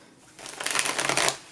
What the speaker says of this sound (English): I have already shuffled a few times, but I'm going to shuffle again.